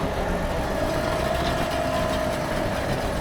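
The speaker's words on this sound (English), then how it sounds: "Work that tow truck." A tow truck engine strains steadily while pulling a semi trailer carrying a 20,000-pound load of oranges out of piled snow. The heavy, continuous low rumble is close and loud, holding a sustained tone with no talk over it.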